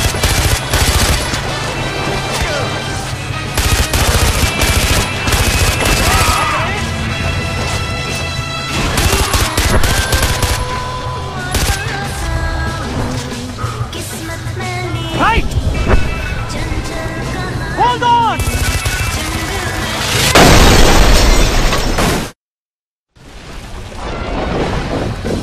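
Loud, rapid bursts of automatic gunfire crackle almost nonstop in a Far Cry 4 firefight, with shouting voices mixed in and a brief drop to silence near the end.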